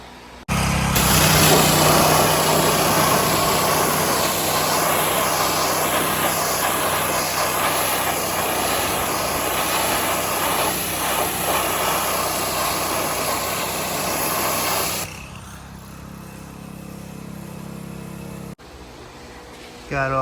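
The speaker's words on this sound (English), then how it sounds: "So I'm gonna pressure wash it, put it in the sun, let it dry" A pressure washer runs loud and steady for about fifteen seconds while cleaning a urethane front bumper from a 1971 Mustang Mach 1, then drops to a quieter hum and cuts out.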